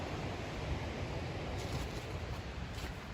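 The Merrimack River flowing through the city of Lawrence, Massachusetts, makes a steady, broad rushing roar that stays constant throughout, with some wind buffeting the microphone.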